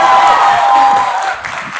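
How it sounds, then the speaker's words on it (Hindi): Audience applause at a college fresher party for dental students, a dense, steady patter of many hands that holds loud and then eases off slightly toward the end. "तालियों की बौछार सावन के रिमझिम की तरह से आपने अपने आप कर दी"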